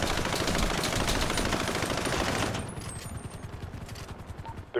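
Rapid bursts of automatic gunfire from a GTA roleplay shootout rattle on loudly and densely, then ease into scattered, slightly quieter shots toward the end.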